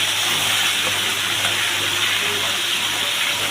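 Chicken pieces sizzle in a pan over high heat, a steady loud hiss with a constant hum underneath and no talking.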